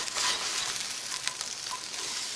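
Oil-free hash browns cooking in a skillet give off a steady, close sizzle, with a few scrapes and stirs as they are turned.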